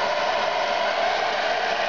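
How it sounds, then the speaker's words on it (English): A hair dryer running on low heat, aimed at a strip cut from a 2-liter plastic soda bottle to bend it, gives a steady, close, even airy whoosh with no voices. "then you can put it under the low heat of a hair dryer"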